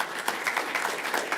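A brief burst of dense, continuous applause at a school district board meeting honoring the district spelling bee winner, many hands clapping together in an even wash of sound.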